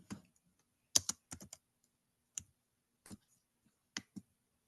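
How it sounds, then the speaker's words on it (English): Computer keyboard keys click in sparse, quiet clusters of taps separated by silent pauses, close and isolated with no talking. "no, I'm typing it"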